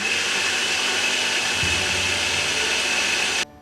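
A blender purees strawberries with a tablespoon of agave, running as a steady close whirring drone that shifts slightly in pitch midway, then cuts off sharply near the end; no one speaks.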